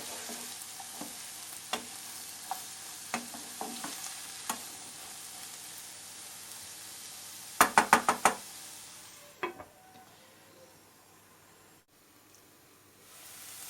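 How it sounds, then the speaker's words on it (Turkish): Onions sizzle steadily in hot oil, with regular spoon knocks against the pan and a quick burst of clatters partway through. "Gördüğünüz gibi soğanım kavruluyor"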